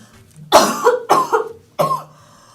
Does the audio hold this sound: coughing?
yes